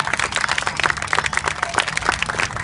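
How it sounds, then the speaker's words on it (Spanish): An audience at a sports clinic event claps steadily, a dense patter of many hands close by, continuous throughout. "Aplausos"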